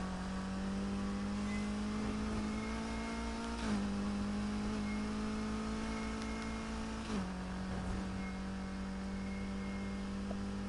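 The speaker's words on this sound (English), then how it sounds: "This hypercar isn't silent, but you can hear like the jet engine in it." Hypercar engine from the Need for Speed racing game, an older classic model, drones steadily and close, its pitch dipping briefly twice as if shifting gears, with a faint whine on top.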